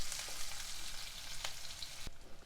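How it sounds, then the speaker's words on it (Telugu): A finely chopped medium onion sizzles softly in hot oil with mustard seeds and cumin, giving a quiet, steady frying hiss with a light stir and a brief knock near the end. "మీడియం సైజు ఉల్లిపాయ సన్నగా ముక్కలు చేసుకొని వేసుకోవాలి ఒక్కసారి కలుపుకోవాలి"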